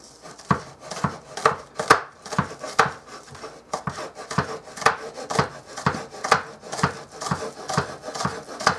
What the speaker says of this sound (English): So we're just going to chop these up thinly,